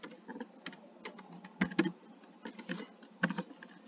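Someone types an email address on a computer keyboard with quick, uneven clusters of close, light key clicks and a few louder strokes.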